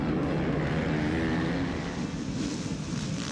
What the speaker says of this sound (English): Revs are up, gates down.